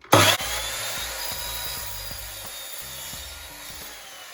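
A saw cuts through wood in a series of short, rhythmic strokes after a sharp initial knock, close and fairly steady.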